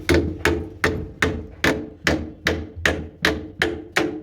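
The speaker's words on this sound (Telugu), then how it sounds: "ఇలా గట్టి కొట్టినప్పుడు ఇలా లోపలికి వెళ్ళి ఆగిపోతుంది" A hammer drives a wall plug into a wall with about a dozen sharp, evenly spaced blows, each a loud near thwack with a short ringing decay.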